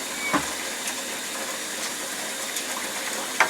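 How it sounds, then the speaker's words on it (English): Water running steadily over polished tumbled rocks as they are rinsed, a faint continuous wash with a few soft knocks and clicks of stones mixed in. "going to rinse these rocks out here"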